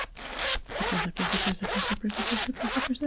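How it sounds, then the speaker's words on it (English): A zipper is pulled back and forth several times in quick strokes, each a rasping buzz with short pauses between, close up. "So we'll do the zipper."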